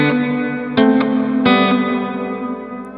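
Sustained distorted guitar chords played through a reverb pedal on a room and plate setting ring with a long reverberant tail, a couple of fresh strums blooming into a washy, spacious decay.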